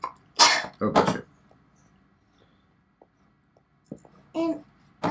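A single sneeze indoors, close and abrupt with a sharp intake and burst, followed by a second short burst, then quiet with faint small noises and a brief voice near the end.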